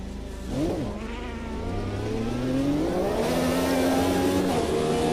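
IndyCar race car engine in a racing video game at Long Beach, revving and rising in pitch as it accelerates, loud and steady with gear-change dips, no talk over it.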